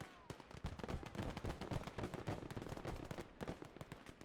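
Artillery fire in the Call to Arms Gates of Hell Ostfront video game, a dense run of sharp booms and cracking blasts rattling off rapidly, loud and close, with a voice faintly underneath.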